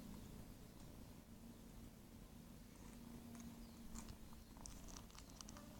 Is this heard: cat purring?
yes